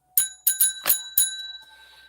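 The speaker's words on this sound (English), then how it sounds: "So the bell has rung." A small hand bell struck five times in quick, uneven succession, each bright ringing tone decaying into a lingering shimmer, with no talking.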